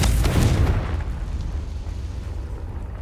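A Confringo fire spell explodes in a cave in Hogwarts Legacy: one loud, deep boom that bursts at once and then fades into a long rumbling tail.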